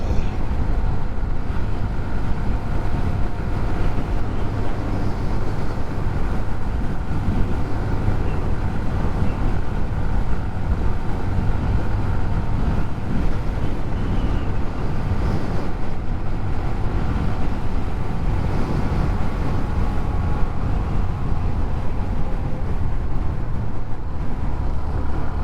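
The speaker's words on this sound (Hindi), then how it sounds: "तो मैं उस स्पीड में चला रहा हूँ कि कोई भी बाइक परचेज़ करेगा तो वो इस बाइक को इतनी ही स्पीड में चलाएगा" Hero Xtreme 125R motorcycle cruising at about 78 km/h on a mileage test, heard as a steady, continuous engine drone and road and wind rush that holds evenly throughout with no talk.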